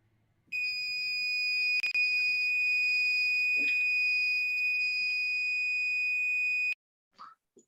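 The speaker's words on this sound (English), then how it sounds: "Let the alarm beep." An alarm built for a school science project demonstration sounds one loud, steady high-pitched tone for about six seconds, then cuts off, followed by faint brief noises.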